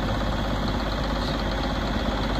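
A 2002 Cat Challenger 745 tractor drives around, its engine holding a steady, loud, low rumbling drone with constant vibration the whole time and no one talking.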